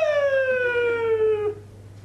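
A voice imitating a police car siren, one long falling wail with strong harmonics, loud and close, cutting off after about a second and a half.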